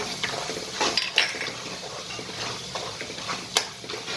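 A spoon stirs spice mix into ragi and bajra millet chevda in a metal pan, with close, irregular scraping and light clinks against the pan.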